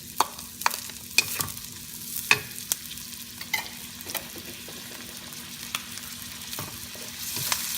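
Garlic added to a pan after onions sizzles steadily with a soft frying hiss, broken by sharp scrapes and clacks of a utensil stirring, no voices.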